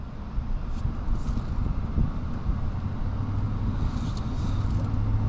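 A 2022 Ram 1500 Big Horn pickup truck drives on a road, a steady low engine and road rumble with wind noise throughout, a faint hum rising slightly toward the end, no talk.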